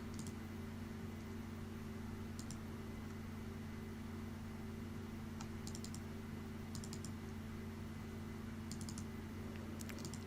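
Sparse keyboard taps type a template file name in drafting software, small clusters of light clicks spread across the clip over a constant loud electrical hum and hiss.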